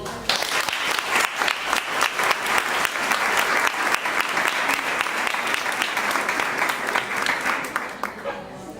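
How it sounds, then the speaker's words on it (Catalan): A crowd at a municipal election candidacy launch bursts into loud, sustained applause for a speaker, dense rapid clapping that carries on for several seconds before cutting off. "Un fort aplaudiment per a Eli."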